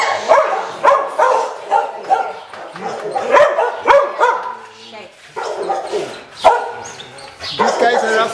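Several dogs bark and yip repeatedly at a pet resort with outdoor runs, loud, close barks coming in irregular bursts, with people talking in between.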